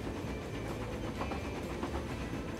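A train runs along its rails in Transport Fever, a steady, fairly quiet rumble and hiss of the moving cars with faint rhythmic clatter and no voices.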